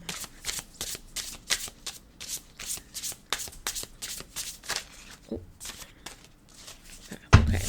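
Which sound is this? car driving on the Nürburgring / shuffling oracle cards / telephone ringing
shuffling oracle cards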